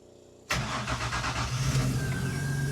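A Jaguar engine fitted in an MGB GT cranks and catches after a short quiet stretch, settling straight into a loud, steady, rumbling run close by.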